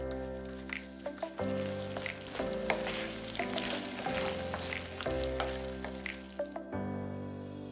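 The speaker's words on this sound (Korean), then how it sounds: "소스를 다시 중약불에 올려서 끓어오르면 튀긴 새우 넣고 골고루 버무려서 불을 꺼주고" Fried shrimp are tossed in a bubbling ketchup sauce in a pan over medium-low heat, giving a steady sizzle with stirring scrapes over background music.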